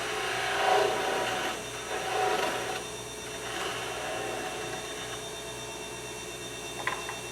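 Wood spins on a lathe as a cutting tool takes shavings while turning a small sea life ornament. A steady motor hum runs underneath, with soft, scraping cuts that swell and fade.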